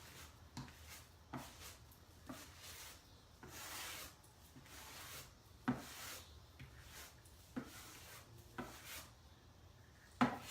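Plaster being smoothed out like drywall on a farm or railroad model layout, heard as soft scraping and rubbing strokes with a few sharper taps, close and fairly quiet, with no talk.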